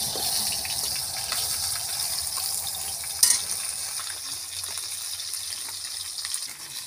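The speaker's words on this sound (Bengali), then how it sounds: "মাথাটা ভেজে নিচ্ছে।" A catla fish head sizzles in hot oil in a kadai, a steady crackling hiss throughout with one brief louder spatter midway, and no voices.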